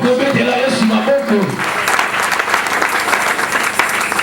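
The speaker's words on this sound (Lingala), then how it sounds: "Est-ce qu'on peut acclamer pour ça?" Congregation applauding at an evangelist's prayer service, a dense sustained wash of clapping that swells after a brief opening of voices and continues loud and steady to the end.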